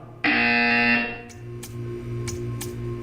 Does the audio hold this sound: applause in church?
no